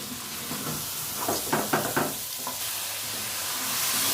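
Chicken being stir-fried (bhuna) in a pot for yakhni pulao gives a steady sizzle and hiss, with a few spoon knocks and scrapes against the pot midway.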